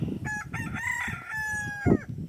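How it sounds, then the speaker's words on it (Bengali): A rooster crows in a village, a single drawn-out cock-a-doodle-doo at moderate distance, rising and then trailing off. "ওই ওদিকে মুরগি ডাকলো"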